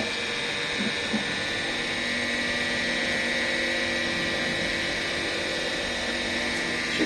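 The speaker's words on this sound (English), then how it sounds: "just prime this pump properly." Brewing pump running while being primed on an all-grain brew day, a steady close electric whine and hum with a constant high-pitched tone throughout.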